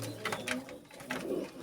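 Imported teddy pigeons coo softly in a few brief, low murmuring phrases, faint and close, with a faint voice in the background.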